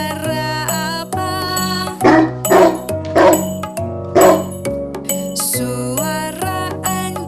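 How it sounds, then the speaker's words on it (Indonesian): A dog barks in several short bursts over a bright, steady musical backing, the barks standing out loudly every second or so. "Suara anjing."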